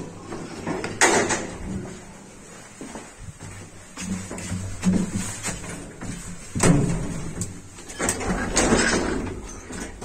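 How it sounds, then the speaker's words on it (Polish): Converted elevator shaft doors in a lift slide open and closed with rumbling, clattering bursts, fairly close and moderately loud, amid background noise. "To są drzwi z Zuda. Przerobione drzwi z Zuda."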